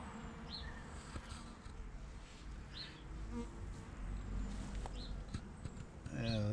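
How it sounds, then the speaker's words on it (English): Faint buzzing of several bees gathering pollen in Epiphyllum orchid cactus flowers, drifting in and out over a steady outdoor background, with brief soft rustles and a louder burst near the end. "It's got 5 bees in there, and they all seem to gather pollen the first thing in the morning."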